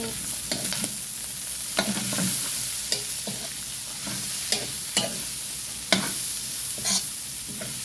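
Sotanghon guisado is stirred in a sizzling pan, with a utensil scraping and clacking at irregular intervals over a steady frying hiss, close and with no talk.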